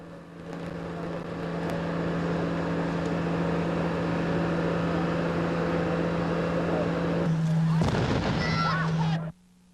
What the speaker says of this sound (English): A loud explosion that shook the area for blocks in every direction